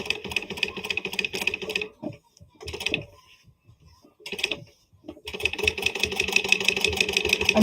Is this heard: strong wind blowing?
no